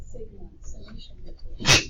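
A single sharp sneeze bursts out near the end of a short stretch of a classroom math lecture, loud against the teacher's talking.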